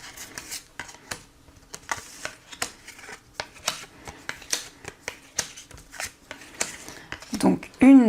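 Tarot cards being shuffled for a reading, with a string of crisp riffling flicks and taps in an irregular rhythm, close up, while a voice speaks softly beneath.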